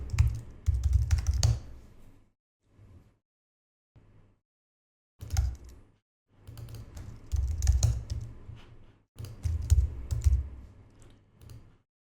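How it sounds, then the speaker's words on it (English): Clattering keystrokes on a computer keyboard, typed in several quick bursts separated by short pauses, close and fairly loud. "I can't really type at the same time with one keyboard"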